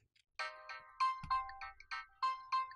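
Mobile phone ringtone playing a bright repeating electronic melody of short tonal notes in an even rhythm, clear and fairly close in a quiet room.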